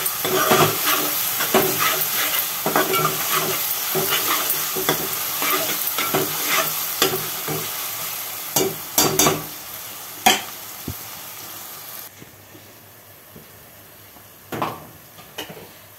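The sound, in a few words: dry ginger frying in a pan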